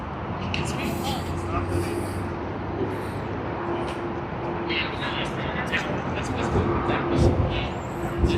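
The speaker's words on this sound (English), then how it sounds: "Shanghai Airlines Boeing 787-9 Dreamliner." Shanghai Airlines Boeing 787-9 Dreamliner at Sydney Airport, a steady jet engine roar heard from a distance, growing slightly louder toward the end while a voice talks over it.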